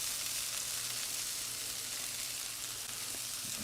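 A thin smashburger patty sizzles on a hot griddle with a steady, loud crackling hiss throughout and no voices.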